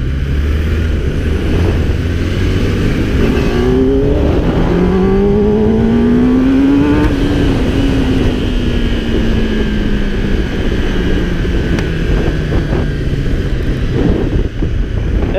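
A Kawasaki ZX10R motorcycle engine revs hard, its pitch climbing and then falling away over steady wind noise.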